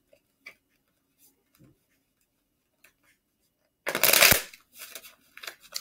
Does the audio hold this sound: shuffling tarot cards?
yes